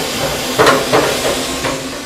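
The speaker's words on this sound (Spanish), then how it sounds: "Si nos parece poco vapor, le damos un poco más." Steam hisses into a traditional bread oven in several short, soft bursts over a steady background hiss, moderately close with no talking.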